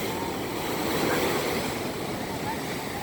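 Strong sea waves break and wash steadily onto a beach, a continuous close roar of surf with wind noise over the microphone and no speech.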